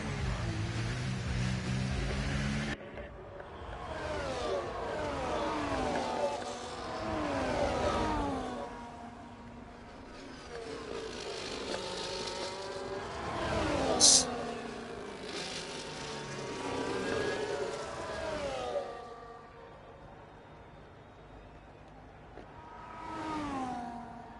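Several race cars in the F1 24 video game at the Las Vegas circuit roar past in a close train battling for position, engine notes rising and falling with repeated loud pass-bys and whooshes, no voices.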